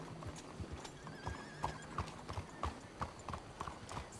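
Horse hooves clip-clop at a steady walking rhythm in Red Dead Redemption 2, close and clear over a soft ambient bed of outdoor game sound.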